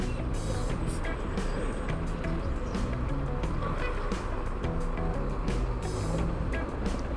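Trucks on a busy Manila street, a loud, constant rumble of engines and traffic with repeated beeping and a few sharp bursts, close by and unbroken throughout.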